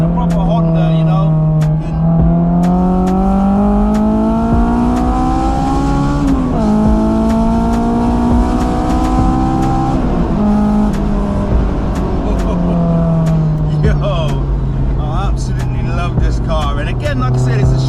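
Honda S2000 engine revving hard in VTEC toward 9,000 rpm, a loud, continuous high-pitched howl. The pitch rises and falls through several rev sweeps over the full stretch.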